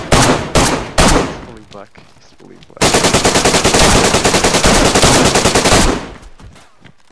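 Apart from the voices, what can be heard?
gunfire from a full magazine in video game DayZ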